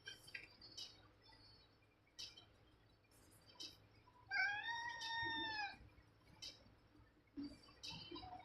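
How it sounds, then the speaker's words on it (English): A pet cat gives one drawn-out, wavering meow in the middle of a quiet indoor scene, with scattered soft clicks and knocks before and after. "There's my cat."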